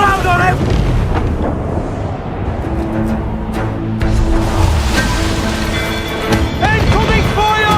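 Enemy cannon fire and explosions in the pirate ship game Assassin's Creed IV, loud rumbling booms and roaring blasts layered with sea and wind noise, while character voices shout over the battle.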